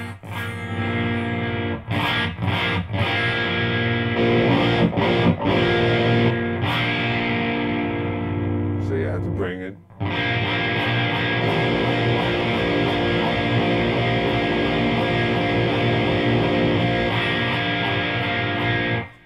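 An electric guitar played through a Boss GX-100 with a Friedman amp's preamp bypassed gives loud, sustained distorted chords and riffs. It plays alone, with a short gap in the middle before a long ringing passage.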